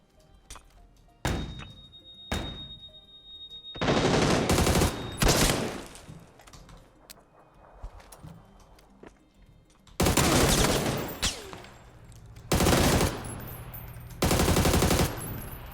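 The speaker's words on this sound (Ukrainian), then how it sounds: "І хтось по мені стріляє здалеку." Bursts of rapid gunfire crackle in several loud volleys separated by quieter gaps, with scattered single shots and thuds between them, in a PUBG firefight with distant shots.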